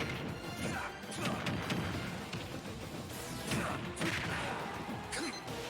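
Super Smash Bros match with a mine going off, heard as a dense, constant clatter of crashes, hits and game effects with several sharp impact bursts and whooshes throughout, loud and busy with no clear gaps.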